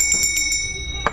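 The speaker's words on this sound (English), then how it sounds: "That's in rough shape. I love brass bells." A small brass bell in rough, worn condition rings with a few quick, light tinkling strikes while being handled in a thrift store. It is fairly faint, and no one is talking.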